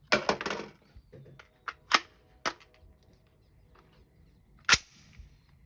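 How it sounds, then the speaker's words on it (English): A PSA JAKL rifle fired one-handed in a magazine dump. A quick cluster of sharp reports opens, followed by a few scattered single shots, crisp but somewhat distant, with no voices. "So I'm going to try to show her how to one-hand dump a mag."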